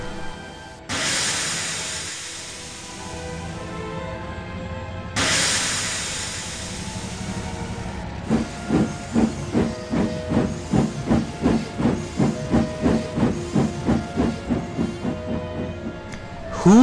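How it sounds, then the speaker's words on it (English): A steam engine in the train simulator game Trainz releasing loud bursts of hissing steam, two long blasts followed by rapid rhythmic chuffing puffs as it pulls away, close and prominent. "That's coming from a steam engine right there."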